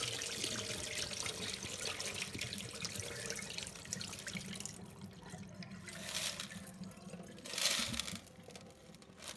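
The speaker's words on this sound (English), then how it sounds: "Now I dump the water out." Water poured out of a betta fish tank splashes and gushes continuously, a loud rushing stream that thins toward the middle then surges again briefly before trailing off.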